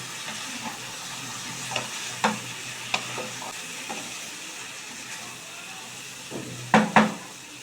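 Pumpkin and potato curry being stirred in a pan after a splash of water, with scattered scraping strokes and clatters over a faint background sizzle, including a louder pair of scrapes near the end.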